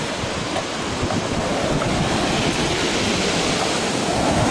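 Water surges through the Lake Ellesmere outlet toward high tide, producing a loud, steady, unbroken rush of churning flow with wind buffeting the microphone throughout.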